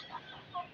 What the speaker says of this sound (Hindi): चले हम मुर्गियों की तरफ चलते हैं।